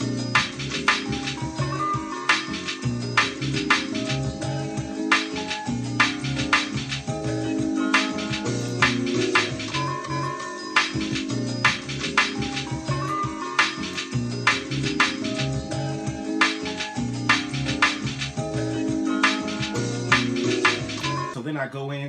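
A jazzy East Coast hip hop loop plays continuously, with warm chords and sharp snares cracking on a steady beat throughout, dense and loud.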